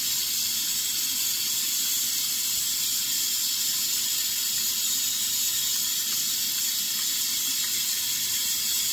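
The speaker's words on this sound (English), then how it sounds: "I fill this up with water for the same reason." A bathroom sink filling with water from the tap, a loud, steady, close rush of running water that hisses without a break for the whole stretch, with no voices.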